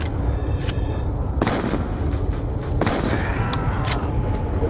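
An Olympia shotgun firing in Call of Duty Black Ops 2 Zombies on the Nuketown map, with several sharp blasts spaced through a constant loud din of game noise and other gunfire, and no speech.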